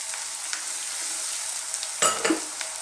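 Vegetables sweat in a pan for a pasta sauce with a continuous gentle sizzle, then a brief burst of louder crackling and utensil scraping near the end.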